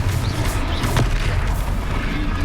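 Confringo fire spell blasts in Hogwarts Legacy, a deep booming explosion with rumbling low impact and a crackling burst midway, heard over continuous game ambience and effects.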